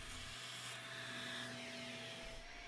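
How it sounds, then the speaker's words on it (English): A vacuum cleaner draws grass clippings out of a Craftsman lawn mower's starter cup, a steady close whooshing hum with a faint tonal whine and slight rubbing noises. "so I'm going to get rid of that using a vacuum"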